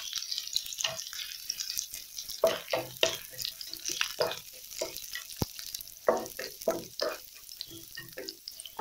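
Curry leaves hitting frying shallots in hot oil for a Kerala-style Idukki kappa biriyani, a steady close crackle and sizzle with sharp spits and bursts throughout, no talk.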